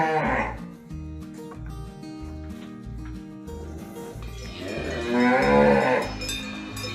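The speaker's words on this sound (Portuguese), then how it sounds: "Vaca, cow." Farm cow mooing loudly and close, two long, low, drawn-out moos at the start and end with a quieter stretch between, over a steady rhythmic background thump.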